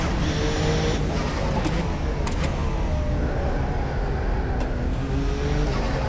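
A Porsche 962 Group C race car in rFactor 2 at Spa, its engine droning and rising and falling through gear changes, with shifts and braking, heard loud and steady from inside the car.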